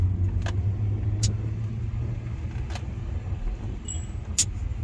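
A BMW 325ci with a manual gearbox doing donuts gives a continuous low engine rumble and drone throughout, fairly loud, with a few brief sharp clicks and knocks and no talking.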